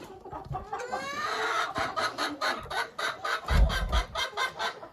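Chickens in a coop on a small farm cluck in a steady, rhythmic series of close, moderately loud calls, with a rising squawk near the start.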